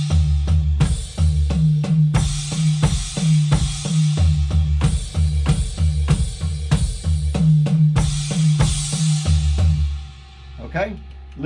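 A drum kit plays a paradiddle pattern at a slow pace, with crash cymbal accents landing on the bass drum and light tom taps between them; close, steady strikes that fade into a cymbal ring at the end.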